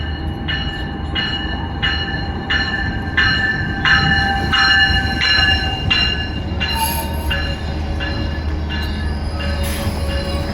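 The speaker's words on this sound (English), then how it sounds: "from there we'll get the Metrolink into the convention center" A Metrolink commuter train rolls past with a steady rumble and a series of evenly spaced, tonal squeals and clanks from the wheels. A few sharper metallic hits come later, loud and close, with no voices.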